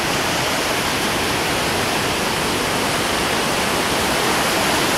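A fish-spawning river near Hope, British Columbia, rushes loudly and continuously close by, a dense, steady roar of flowing water with no breaks.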